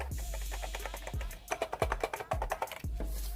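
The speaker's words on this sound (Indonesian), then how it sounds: "Bunyinya seperti ini ya. Dan ini sudah RGB teman-teman." Cheap RGB gaming keyboard being typed on, a quick irregular run of clacky key presses with a few heavier thumps, close and clear with no talk.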